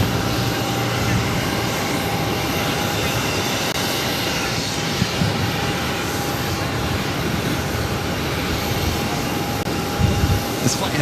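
An Airbus A320 airliner taking off from Boston Logan gives a steady, broad jet rumble and whine that holds level throughout, with people talking over it.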